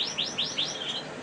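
Greenfinches and other finches in a British breeding aviary give a run of four or five quick, bright chirps close by, alone with no voices.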